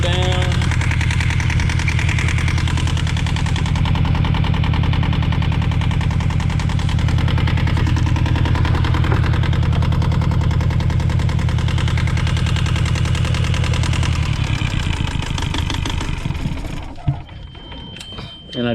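A steady, loud boat engine drone running at idle with a low, even rumble, cut out by the fuel cutoff near the end, leaving a brief tone.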